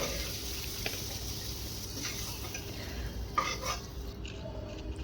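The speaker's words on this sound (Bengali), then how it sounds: "তাই এগুলো ভাজা কমপ্লিট, এবার এগুলো তুলে নেব অন্য একটা পাত্রে।" Fried jackfruit seeds being stirred and scooped out of a pan, a soft sizzle under scraping and clinking of a utensil against metal, with a louder knock near the end.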